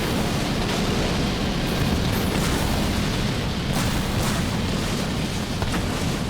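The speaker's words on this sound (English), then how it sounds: "there's now 2 Reavers shooting at the air support of Darkangels" In a Halo Wars 2 battle, Reavers fire at air units while the mix stays dense and loud throughout, full of booming, rumbling blasts and weapon fire. The roar is continuous and heavy, and no voice is heard.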